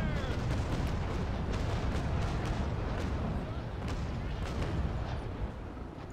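A sailing ship fires its cannons in the Naval Action game, a dense rumbling barrage of overlapping booms that rolls on continuously and loudly before easing slightly toward the end.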